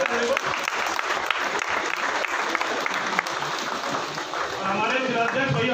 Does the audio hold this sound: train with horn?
no